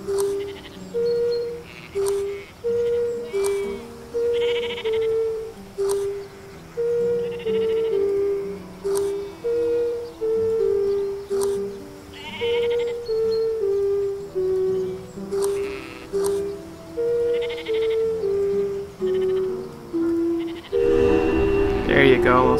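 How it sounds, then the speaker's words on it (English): An ocarina melody plays to sheep in a video game: a steady, looping run of clear, evenly paced mid-pitched notes that continues throughout, with a brief burst of noise near the end. "Ocarina. Here, listen to those sweet beats."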